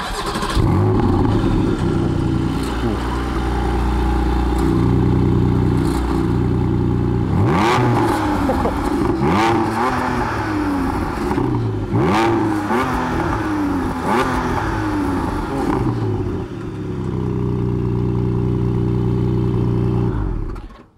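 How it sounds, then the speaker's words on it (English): A 2021 Porsche 718 Boxster GTS with a naturally aspirated 4.0-liter flat-six revs hard through repeated rising and falling sweeps, snarling loudly and close over a steady idle before easing back. "it's now a 4-liter flat six, a naturally aspirated flat six"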